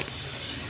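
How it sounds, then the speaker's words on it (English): Short, steady hiss of an aerosol spray paint can spraying, close and continuous, in a home kitchen. "Come on, Naya, spray paint."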